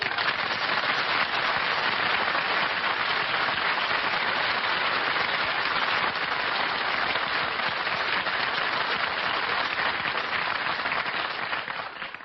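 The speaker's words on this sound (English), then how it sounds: "I didn't mind the applause he got on his entrance" A theater audience applauds a character's entrance in an old radio detective drama, a thick, even wash of clapping that runs steadily at moderate level and fades slightly at the end.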